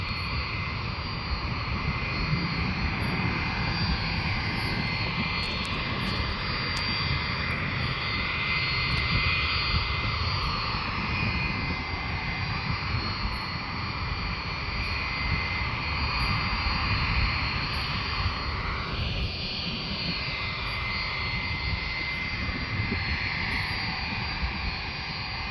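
Military airplanes at Fort Bragg, a steady broadband jet engine roar holding at moderate distance for the whole stretch, with no talk.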